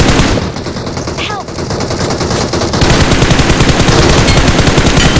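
Rapid automatic gunfire from a BGMI battle-royale match, loud bursts of dense repeated shots filling the second half after a quieter stretch with a brief whistling sweep, players chatting over it.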